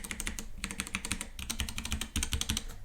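Rapid typing on a Ducky One 3 SF 65% keyboard with silver switches, a close, crisp clatter of keystrokes in quick irregular bursts with no voices.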